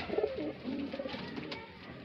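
Several pigeons coo softly and repeatedly at close range, their low throaty calls overlapping in a steady murmur, kept as flying breeds at a home loft in Bareilly, Uttar Pradesh.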